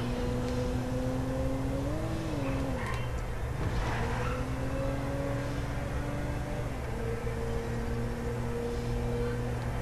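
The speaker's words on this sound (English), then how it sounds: "I'm rolling in my green Flintstone car." A green Flintstone-style car driven in GTA V Online sounds as a steady engine hum that rises and shifts pitch a few times while cruising, continuous and fairly close, with no talking.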